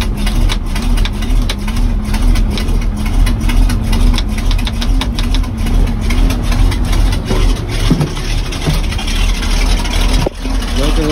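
An equipment engine idles steadily after a cold start with the choke on, a loud, close, continuous rumble with a rhythmic chugging pulse that holds even throughout.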